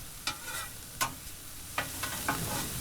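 Diced onions frying on a Blackstone flat-top griddle, a soft continuous sizzle broken by several quick spatula scrapes and taps.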